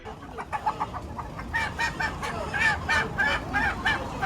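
Several chickens cluck repeatedly in short, rhythmic bursts against a busy background hum at a live poultry market in Diyarbakır, fairly close and clear.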